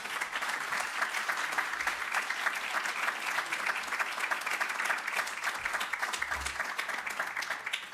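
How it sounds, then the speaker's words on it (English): Steady, sustained applause from an audience at an energy communities conference honors a panel, an even wash of many hands clapping with no speech over it. "So we'll give a big round of applause to our panelists."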